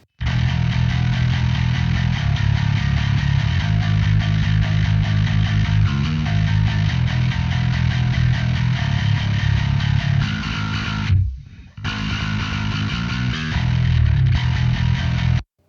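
An electric guitar plays through a Microtubes Infinity heavy distortion pedal, a thick, bass-heavy sustained tone with a brief pause near the end, loud and alone.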